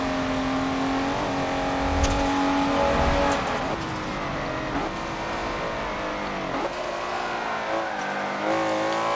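Race cars in a video game race roar continuously with engines revving up and down through gear changes, loud and close, with rising and falling pitch sweeps throughout.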